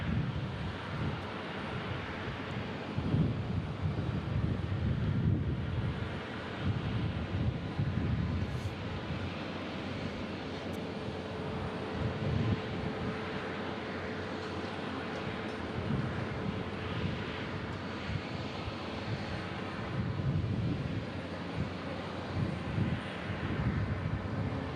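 An arriving airplane at Omaha Eppley Airfield, landing on runway 14 right, gives a long broad roar of jet engines that holds steady with slight swells, carried on wind noise, heard from a distance without speech.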